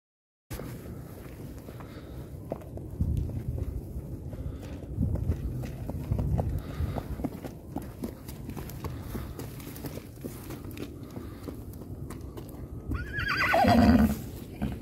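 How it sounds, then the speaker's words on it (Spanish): A horse walks with steady, moderately close hoof clops on the ground, punctuated by a whinny near the end. "Si va al galope, va al trote o va solamente al paso caminando."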